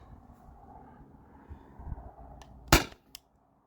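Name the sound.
airsoft gun shot over a chronograph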